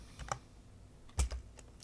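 A command being typed into a Linux terminal on a computer keyboard, a few soft scattered keystrokes, faint and close, with no talking.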